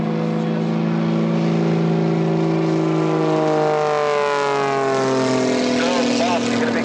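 A propeller airshow plane at EAA AirVenture 2024 taxis toward the tarmac, giving a loud, steady engine drone with tones that slowly shift in pitch, close by and continuous throughout.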